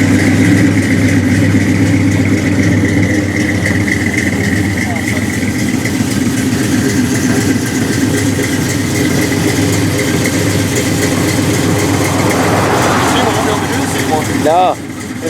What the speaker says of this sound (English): Oh yeah, but it's the Chevy motor.